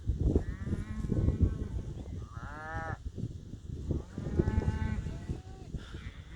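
Several cows moo nearby in a pasture, long drawn-out calls overlapping amid a busy, shuffling herd background.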